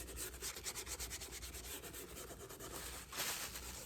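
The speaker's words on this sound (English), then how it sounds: "final light sanding" A shoe gets a final light hand sanding, quiet rhythmic scratchy rubbing strokes repeating close by with no voices.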